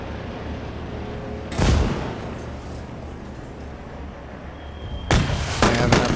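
Artillery fire in a modded Battlefield game: two heavy broadband blasts, one near the start and one near the end, each with a rumbling low tail, over a steady low battlefield drone and no talk.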